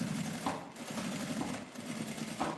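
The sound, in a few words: sewing machine stitching fabric flap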